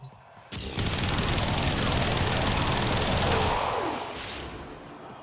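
Sustained gunfire from shooting enemies in the game Warframe, a dense, continuous burst that starts abruptly, holds loud for about three seconds and then tails off, with no talk over it.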